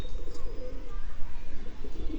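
A pair of Star Kalanka pigeons coo in low, throaty bursts close by, with faint background noise and a sharp knock at the very end.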